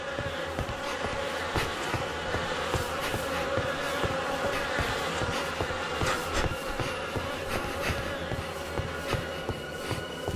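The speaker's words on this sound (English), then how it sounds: "The air is heavy with the stink of rot and the buzzing of those damned insects" Insects buzz constantly in a rotting mountain area in The Fidelio Incident, a dense close drone with repeated sharper flybys over a low steady hum, no voices.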